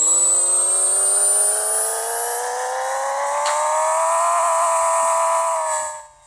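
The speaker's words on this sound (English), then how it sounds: "You know, with VTEC and the big old turbo. VTEC go boah!" In the Pixel Car Racer video game, a turbocharged Honda Civic VTEC engine revs loudly with a rising synthetic whine that climbs steadily, holds, then cuts off abruptly.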